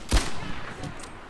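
Gunfire from a submachine gun in the video game Medal of Honor Airborne: a single loud, sharp report, then a brief reverberating tail.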